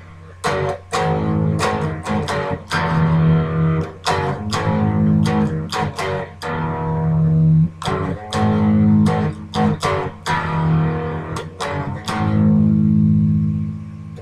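Electric guitar plays a simple opening riff, loud and alone, with sharp repeated chord stabs between ringing sustained notes in a steady rhythm.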